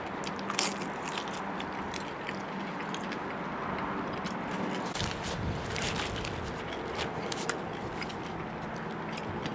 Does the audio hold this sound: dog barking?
no